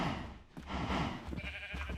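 Cows mooing and bleating in the Minecraft video game, a few faint low animal calls rising and falling over soft in-game background noise.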